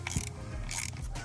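A wrench turns bolts on a Ford 6.0 Powerstroke diesel engine during standpipe and dummy plug removal, giving short ratcheting, clicking bursts up close, separated by brief pauses.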